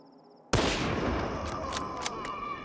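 A single loud, sharp M700 sniper rifle shot from the video game S.T.A.L.K.E.R. 2 rings out and its echo trails off, followed by a few faint clicks.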